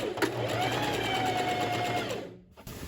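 An electric sewing machine running a short backstitch on a seam of a lined tailored vest, a close steady whirring hum for about two seconds before briefly stopping, alone without talk.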